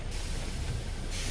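A short steady hiss of water spraying in the video game Resident Evil Village, constant and moderately loud with no voices.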